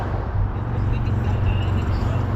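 Cars pass along a road beside a walker, a continuous low rumble of tyres and engines, fairly close and steady, with no voice over it.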